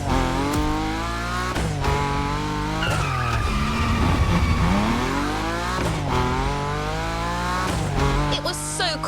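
A car drifting in the racing game The Crew Motorfest, engine revving through rising and falling gear pitches while tires squeal in long sliding bursts, loud and continuous with repeated throttle surges.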